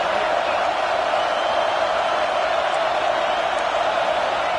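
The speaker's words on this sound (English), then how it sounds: "This crowd bringing the energy and noise early." A football stadium crowd makes a steady, loud, diffuse roar of cheering and noise that stays even throughout, with no distinct peaks.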